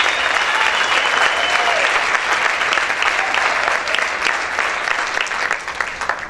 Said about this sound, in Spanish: Vamos a aplaudir fuerte al Señor, al Rey de Gloria.